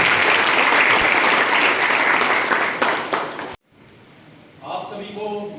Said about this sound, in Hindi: जोरदार ताली अमनदीप के लिए बजा दीजिए